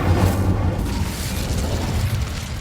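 The Incendio fire spell in Hogwarts Legacy bursts out as a loud, rumbling whoosh, a sustained fiery blast that stays near and heavy across the whole moment without any talk.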